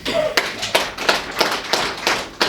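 Audience at a water supply training session claps in a slow, loose rhythm, about seven distinct beats of clapping close by with little background noise.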